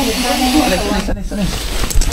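A king cobra being rescued gives a loud, continuous breathy hiss that fills the whole moment, with voices of the rescuers talking over it.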